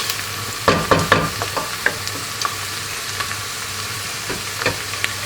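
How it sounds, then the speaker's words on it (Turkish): Onions sizzle and crackle as they sauté in a pan, with a few sharp scraping or stirring clinks near the start and a steady frying hiss underneath. "Ne yapıyoruz soğanlarımızı? Pembeleştiriyoruz."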